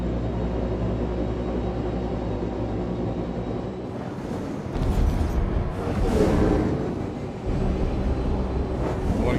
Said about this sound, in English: Get my afterburner up.